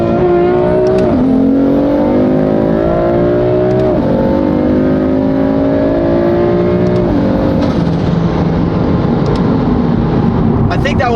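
A BMW M4 sports car accelerating hard on a straight road in Mexico, its engine rising in pitch through repeated gear shifts with brief drops between, loud and continuous from inside the car.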